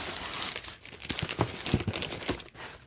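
Thin plastic bags crinkling and crackling as they are pulled open to unwrap books, irregular close crunchy bursts with short pauses, no voices.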